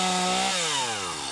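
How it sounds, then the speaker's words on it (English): A chainsaw runs loud and close, its engine whine steady at first and then sliding downward in pitch as it bogs into a cut, with no voices. "You're not going to use an axe, you're going to use a chainsaw."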